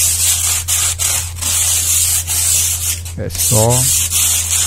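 Sandpaper rubs over a handmade cement vase in steady, repeated rasping strokes up close, over a constant low hum, with a short spoken phrase near the end.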